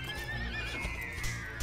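A horse in Dragon Quest VIII neighs and whinnies loudly while being broken in, its rising cries layered over clip-clopping hooves and game music, close and continuous.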